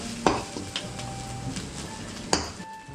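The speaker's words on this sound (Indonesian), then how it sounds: "saya oseng-oseng lagi hingga tercampur merata antara merica hitam dengan bumbu yang saya" Ground black pepper being stir-fried with ground spice paste for Balinese soy-braised pork, a steady sizzle with scraping stirs and two sharp utensil knocks against the pan, close and alone.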